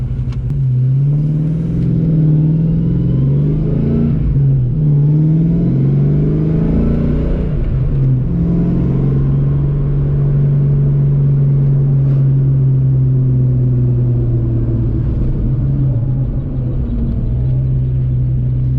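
A Ford 302 V8 car engine with GT40 upgrades idles with a deep rumble, then revs up to about 5,000 RPM in a high roar and engine-brakes back down, loud and close throughout.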